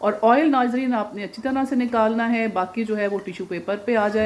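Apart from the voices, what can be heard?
No everyday noise stands out behind the speech.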